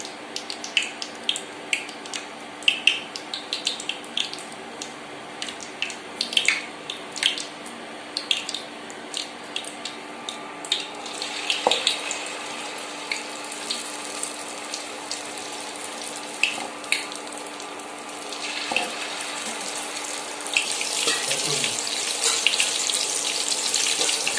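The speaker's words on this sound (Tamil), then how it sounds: "நம்ம இப்போ உருண்டை எடுத்து மாவில் நினைச்சு போண்டா மாதிரி போட்டு எடுத்துக்கலாம்" Carrot and idli-batter balls deep-frying in hot oil like bonda, a continuous bubbling hiss with quick crackles, close, growing denser and louder toward the end.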